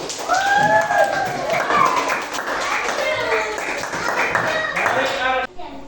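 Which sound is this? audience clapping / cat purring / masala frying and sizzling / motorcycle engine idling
audience clapping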